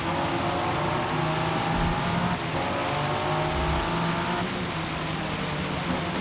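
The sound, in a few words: Ford GT engine driving in video game Forza Motorsport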